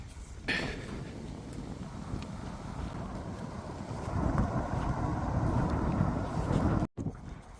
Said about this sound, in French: Il fait froid, c'est très venteux.